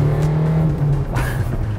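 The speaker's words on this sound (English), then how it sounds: "you hear all sorts of whooshes from the turbo" A 2016 Dacia Duster accelerating, its engine note rising with a turbo whoosh over the top, loud and close from inside the car, no talk.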